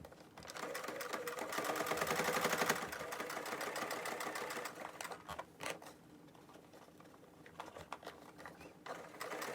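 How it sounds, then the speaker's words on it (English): A sewing machine stitches down the edge of a fabric scissors holder, its rapid needle chatter loud and steady at first, then breaking into shorter bursts with pauses as the fabric is guided. "So I'll take it to my sewing machine and sew down this edge."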